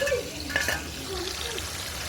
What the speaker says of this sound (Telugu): ఇవి బాగా వేయించుకోవాలి చేపల ఫ్రై రెడీ అవుతుంది